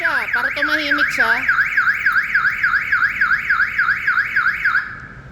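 A 2026 Mitsubishi L300 FB van alarm warbles steadily up and down, loud and close, with a few rapid chirps at the start before the tone fades slightly at the end.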